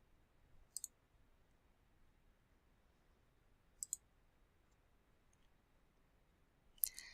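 Sparse computer mouse clicks while browsing a library website, three small crisp clicks or click pairs spaced several seconds apart over near silence.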